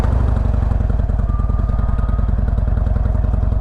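A Harley-Davidson Sportster motorcycle engine runs after starting, loud and close, with a fast, even, lumpy pulsing throb that carries through the whole moment without voices.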